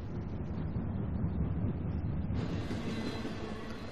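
A bomb-laden train in the video game Uncharted: The Lost Legacy rumbles steadily and loudly throughout, a continuous heavy rolling roar with wind-like hiss that brightens partway through, with no talk.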